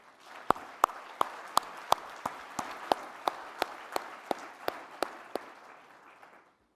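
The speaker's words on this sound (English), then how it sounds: "Let us give all of them a round of applause" An audience at a formal address on Korean reunification applauds softly, with one nearby pair of hands striking sharp, evenly spaced claps, about sixteen in a row, over a fainter bed of distant clapping.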